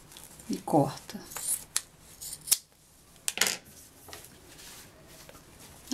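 Scissors snip through fabric and a zipper for a sewing pouch: a few close, crisp cutting crunches and small clicks come early, then quieter handling noise follows.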